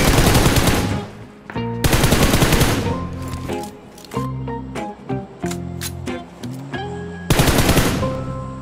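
A toy gun fires in rapid bursts, loud rattling volleys of clicky shots separated by brief pauses and scattered single pops, close and dominant throughout.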